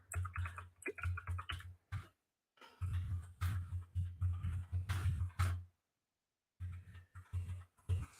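Bursts of rapid keyboard typing with clustered clicks and short pauses, close and fairly loud, with no voices.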